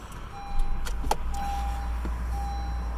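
A 2020 Honda CR-V LX starts up from inside the cabin. Clicks and a short whir come just before the engine catches into a low, steady idle rumble, while a thin electronic chime tone sounds intermittently above it.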